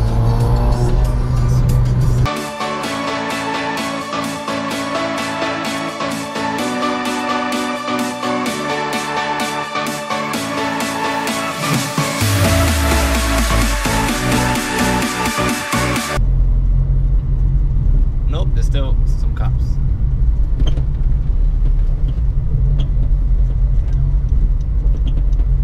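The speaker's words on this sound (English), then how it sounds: "Traffic. I love traffic." Road traffic rolls past with cars passing close by, a steady rumble of engines that swells and fades, with a sharper revving stretch partway through.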